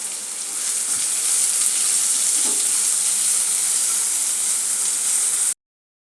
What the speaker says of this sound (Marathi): त्यानंतर मी 1 कांदा घेतलाय बारीक चिरलेला, तो देखील आपल्याला तेलामध्ये परतून घ्यायचा आहे